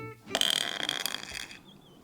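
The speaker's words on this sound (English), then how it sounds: "it has to be a farty noise" A homemade sound machine lets out a single rasping, buzzy fart noise that lasts about a second. It is close and fairly loud, then fades to a faint whine.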